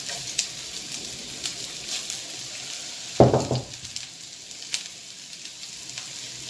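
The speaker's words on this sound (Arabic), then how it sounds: "بعد ما سخنت المقله درت لها غير شويه زيت، قطرات تاع زيت برك، ورشت عليها هذاك البصل" Onions sprinkled with salt fry in a few drops of oil in a hot pan, giving a soft continuous sizzle with one louder burst of crackle midway, nearby and without talk.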